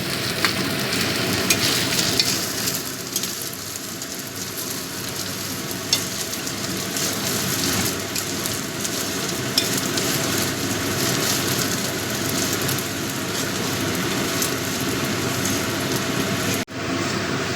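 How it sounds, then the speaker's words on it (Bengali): Grated coconut frying in a pan for a vegetarian banana-flower dish, a continuous close sizzle and crackle with occasional stirring scrapes that runs without pause and has no talk. "এই নারকেল কোড়া দিয়েও ভালো করে ভেজে নেব যাতে নারকেলের কাঁচা গন্ধটা চলে যায়"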